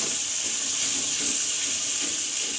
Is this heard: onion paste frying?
yes